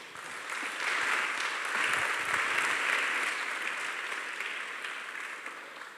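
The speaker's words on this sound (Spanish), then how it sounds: "¿Le damos un aplauso al Señor?" A church congregation breaks into sustained applause, a dense steady clapping that swells and holds for several seconds at moderate loudness, with no voices over it.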